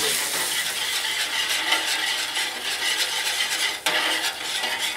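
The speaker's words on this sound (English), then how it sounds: "I'm going to add 1 teaspoon of tomato paste and just let that cook through." Tomato paste cooks in a pan with pork fond and drippings over gentle heat, a steady, close hiss of sizzling with light stirring and a faint clink of a utensil against the pan.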